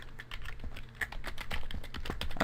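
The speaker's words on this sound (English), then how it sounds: "I'm just going to type in my email" Quick, irregular clicks of typing on a computer keyboard, close and fairly quiet, with keystrokes tapping in short bursts and no voices over them.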